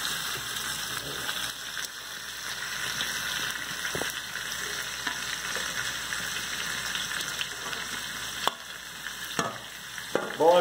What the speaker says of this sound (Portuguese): nós vamos deixar o nosso frango na manteiga, fritando aqui